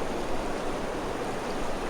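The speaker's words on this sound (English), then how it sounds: "Here we are on the Gallatin River." Steady broadband rush of the Gallatin River in Montana flowing past a campsite, a continuous close water roar with no voices.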